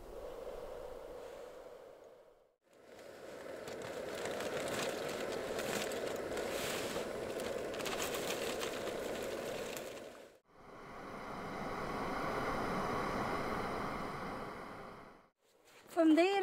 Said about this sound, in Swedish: Men vinden ligger på från det hållet och hitåt.